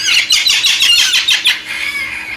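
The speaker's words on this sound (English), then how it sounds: "You guys are loud. Pretty parrots." Large parrots in Trinidad give a rapid series of loud, harsh squawks, roughly eight close bursts in quick succession that fade into a thinner trailing call.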